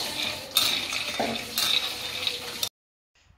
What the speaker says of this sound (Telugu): రాగులు ఇవన్నీ వేయిస్తున్నారు మమ్మీను, అమ్మమ్మ కలిపి